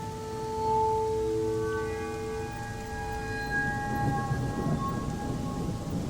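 A rain sound effect in a radio horror story: steady rainfall with a low thunder-like rumble, heard alone. Sustained tonal hums float over the rain for the first few seconds, then fade.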